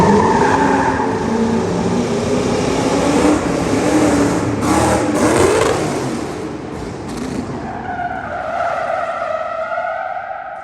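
Stunt car on a test jump at the Autosport International live action arena, a loud close engine roar with tyre skidding as it spins, then a quieter, fading engine note, no talking.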